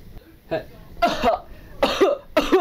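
Four harsh coughs come in quick, uneven bursts, close and fairly loud, with short pauses between them.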